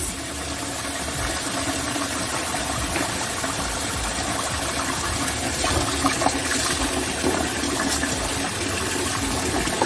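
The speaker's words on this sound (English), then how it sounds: "all I'm going to do now is to run cold water in it" Cold water runs from a tap onto parboiled beans in a steady, loud rush that keeps going without a break, with no one talking.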